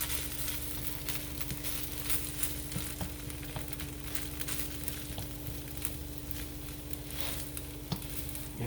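Chicken fried rice sizzling and frying steadily in a pan as egg is broken up and stirred through it, with a constant close hiss and occasional soft scraping taps, no talk.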